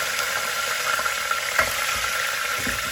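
Lentils and curry leaves frying in hot oil, an even crackling sizzle with a brief clunk of stirring midway and a faint low knock near the end, close and unbroken, no voices.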